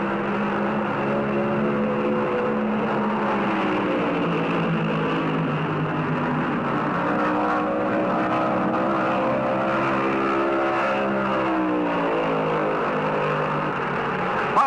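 Stock cars, among them Bobby Allison's Mercury, race at Darlington Raceway in the 1971 Southern 500: a continuous loud roar of engines whose whine rises and falls as cars sweep past, with no speech.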